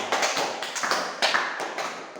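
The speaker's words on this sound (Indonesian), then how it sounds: "beri tepuk tangan untuk kita semua" Students in a classroom break into applause at the end of a lesson, a dense patter of many hands clapping steadily for a couple of seconds with a few sharper claps standing out.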